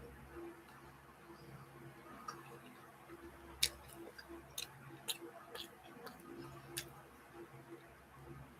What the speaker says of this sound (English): I'll finish chewing the mushroom.